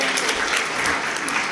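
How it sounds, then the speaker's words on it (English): A short, even ripple of clapping from an audience at an awards ceremony, dense and steady, with no voices over it. "a nice little ripple of applause there"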